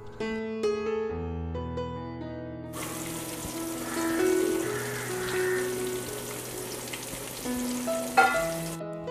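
Onions and curry leaves fry in coconut oil for a Kerala-style chicken curry, a steady sizzle that swells from about three seconds in, with a bright musical background throughout.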